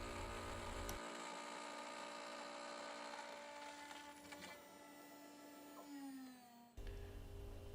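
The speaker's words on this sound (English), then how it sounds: "notice here I'm finishing up with a climb cut in order to get the best possible surface finish on the brass" A CNC router makes a finishing climb cut in brass held to a wasteboard with double-faced tape, a steady high whine with tonal overtones, fairly faint, changing pitch near the end.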